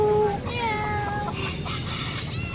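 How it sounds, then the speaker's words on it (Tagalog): A Siamese cat meows in a clear, drawn-out call with rising and falling pitch, followed by a softer second meow, close by with faint background noise and no talk. "Ay, may pusa dito oh."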